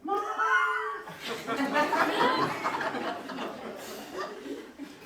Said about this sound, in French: J'entends des chats.